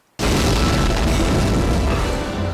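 Huge alien spaceship laser cannon blast from the film Independence Day, a sudden deep boom that swells into a sustained roaring rumble lasting several seconds, loud and close.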